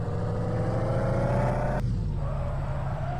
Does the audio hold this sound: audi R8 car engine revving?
yes